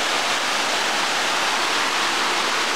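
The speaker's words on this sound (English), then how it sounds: "All right, folks, we got another cascade." A mountainside waterfall cascade pours with a steady, dense rushing roar that stays constant and loud throughout.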